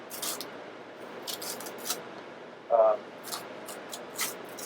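A Boker Kalashnikov 74 knife cutting, with a series of short crisp snipping and slicing sounds repeating irregularly over a quiet background.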